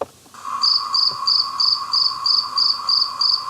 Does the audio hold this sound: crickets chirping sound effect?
yes